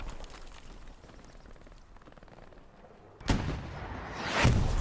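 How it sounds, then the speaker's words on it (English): Heavy artillery shells landing in Hell Let Loose during a competitive PC match, a sudden loud blast after a quiet stretch followed by a second rumbling impact, close and booming with no talk. "Oh, the artillery. Seems to get you when you least expect it."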